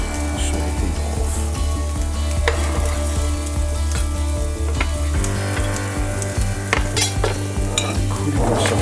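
Onions sweat and sizzle in a hot pan for Spanish chicken, a loud continuous frying crackle with frequent scrapes and clinks of a utensil stirring throughout.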